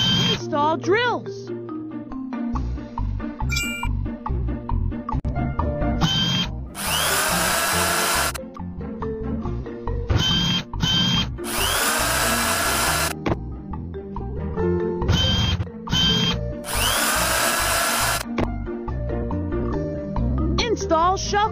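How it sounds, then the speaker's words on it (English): Cartoon power drills on a JCB construction machine whir in several loud bursts, spaced every few seconds between bouncy children's song music and voices. "Install drills."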